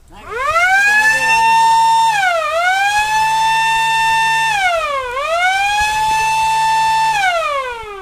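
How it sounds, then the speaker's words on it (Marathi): An electronic leopard-repeller siren used to drive animals away, wailing loudly and continuously like an ambulance, with tones rising and falling in repeated cycles of roughly two and a half seconds, close and alone. "बिबट्या आल्याची चाहूल लागून अनायडर वाजून सायरन वाजवेल"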